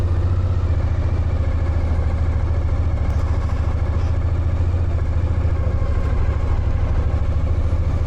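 A crowd of motorcycles idles nearby, a loud, continuous low engine rumble with steady pulsing and faint clatter throughout.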